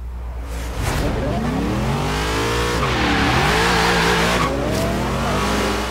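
A 1967 Ford Falcon XR GT in Forza Horizon 3 roars through a drag race, its engine revving loudly and climbing through gears with shifting pitch, steady and close throughout.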